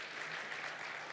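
Steady applause from a church congregation at a Sunday service, a dense even patter of many hands clapping without pause, fairly soft and distant, with no voices over it.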